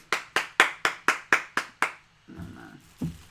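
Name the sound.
hands clapping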